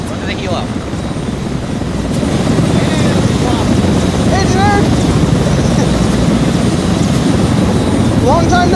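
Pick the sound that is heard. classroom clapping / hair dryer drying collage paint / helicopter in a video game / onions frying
helicopter in a video game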